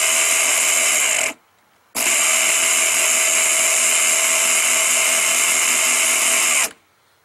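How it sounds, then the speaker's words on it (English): Black & Decker electric mower motor running with only part of its stator fitted: a loud, high-pitched whine that cuts out briefly, restarts and runs steadily, then stops near the end. "I'm running this thing with not the whole stator on there."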